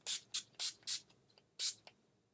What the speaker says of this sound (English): I'm just going to set my face with the Dewy Skin Mist